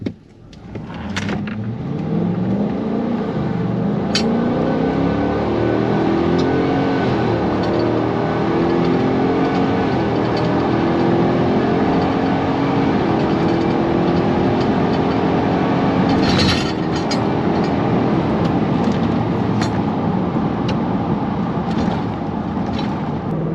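A 7.3-liter V8 engine paired with a 10-speed transmission pulls a vehicle along a road, a loud, steady drone from inside the cab. The rising and falling tones of upshifts run through the steady road and wind noise.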